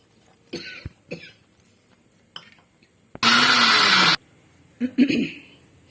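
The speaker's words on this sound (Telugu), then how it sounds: "ఇదిగో ఈ ముక్కలు కూడా వేసేసి రుబ్బేసుకోవాలన్నమాట." A mixer grinder briefly whirs loudly for about a second, grinding green chilies, salt and sweet potato pieces for chutney, between short bursts of speech and a cough nearby.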